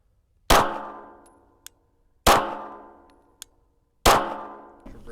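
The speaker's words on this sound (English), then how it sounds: "5 rounds, slow fire with the stock trigger whenever you're ready." Three shots are fired at slow, evenly spaced intervals through a stock trigger, each a sharp close crack with a ringing metallic decay and a faint click following.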